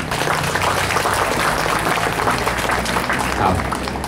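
Steady applause from an audience at an opening ceremony in Sakon Nakhon, Thailand, fills the clip, a dense continuous patter of clapping with a voice faintly present underneath.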